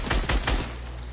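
Three quick, loud gunshots from a video game, fired at a mythic shark, land in a tight rhythm followed by a fading tail.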